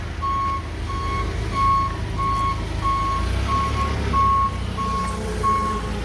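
Forklift reversing alarm beeping in a steady, evenly spaced series of about eleven beeps over a low idling engine rumble, moderately close.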